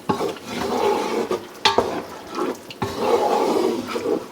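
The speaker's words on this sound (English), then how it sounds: "I'm going to stir this in." Marsala wine being stirred into a hot pan for Salisbury steak, a wet swishing scrape with soft sizzle, close and steady with brief pauses, no talking.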